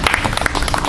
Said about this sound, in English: Give Mama G a round of applause as she brings us greetings